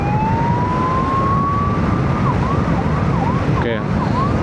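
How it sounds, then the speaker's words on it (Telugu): An ambulance siren comes up from behind on a motorcycle ride from Pathankot to Srinagar. A long rising wail gives way to quick repeating yelps over steady road and wind roar, with no voices. "సో మన వెనకైతే అంబులెన్స్ వస్తున్నది."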